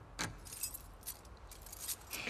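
Keys jangle in the video game The Last of Us Part II, a quick burst of metallic clinks followed by a few softer rattles, close and fairly quiet.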